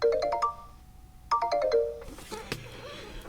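Dynamic effect from the Asus Zenfone 6 flip camera plays as two quick bursts of descending chime-like notes, close and clear. A brief swish and a sharp click follow at the end.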